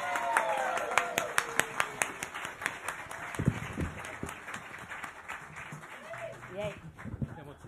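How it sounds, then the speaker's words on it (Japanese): A live music audience claps at a moderate distance, with separate hand claps standing out in an uneven patter before it thins out and voices take over. "大きい盛大な拍手を"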